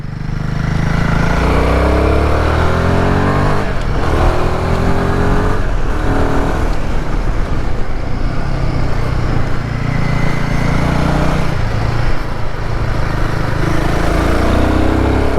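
A motorcycle ridden along a country road in Ireland, its engine loud and close, rising and falling through the gears with wind rush throughout.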